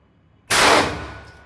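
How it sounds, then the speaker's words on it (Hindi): A single sharp MSD pistol shot fired in double action during a penetration test, a loud sudden crack with a decaying ring and no talk. "अब ड्यूअल एक्शन में हम इसको फायर करेंगे"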